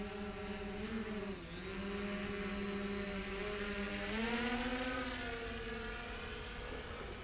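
Small drone on a test flight after a new camera setup, a buzzing propeller whine with rising and falling pitch as it maneuvers, close and steady, with no voices.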